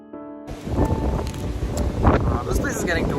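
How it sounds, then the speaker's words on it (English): Outdoor wind buffets the microphone in a steady, loud low rumble that swells and gusts throughout, with faint muffled sounds beneath. "This place is getting too windy."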